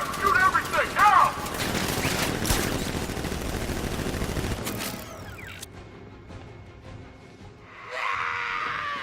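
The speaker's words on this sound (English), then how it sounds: "Guard! Open fire! Shoot everything!" Gunfire from guards in the Batman: Arkham Knight video game, a dense rattle of shots over shouting and other game noise, loud for several seconds before fading into quieter mechanical sounds.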